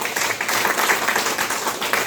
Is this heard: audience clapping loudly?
yes